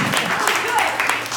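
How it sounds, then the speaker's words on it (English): A small, hesitant patter of audience clapping at a poetry reading, a few scattered soft claps that fade in and out without building to full applause. "I like that really hesitant little clap."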